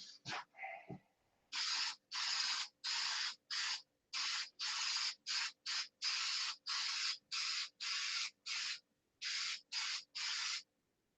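Sanding a surface down toward the paint layer, a run of about twenty rhythmic abrasive strokes, each a short close scratchy rasp separated by brief pauses, with no voices.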